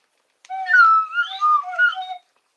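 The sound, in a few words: slide whistle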